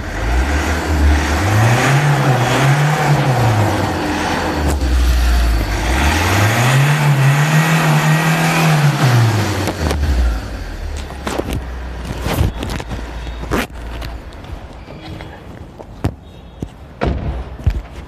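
Overhauled Hyundai i20 engine revved twice by the accelerator, each rev swelling and falling back to idle, loud and close, followed by scattered thumps and knocks as it settles.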